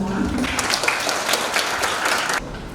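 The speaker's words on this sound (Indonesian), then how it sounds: "Tepuk tangan buat teman-teman semua." An audience at a mental health talk breaks into steady applause, many hands clapping together up close before the sound drops off abruptly near the end.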